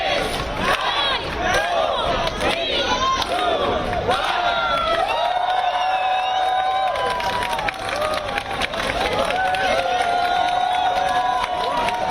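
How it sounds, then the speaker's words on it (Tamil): Store sellers clap and cheer as the first iPhone 16 buyer is welcomed after a long queue, a loud, dense crowd roar with shouts and applause running continuously throughout. "முதல் ஐபோனை வாங்கிய வாடிக்கையாளரை விற்பனையாளர்கள் கைத்தட்டி உற்சாகத்துடன் வரவேற்றனர்"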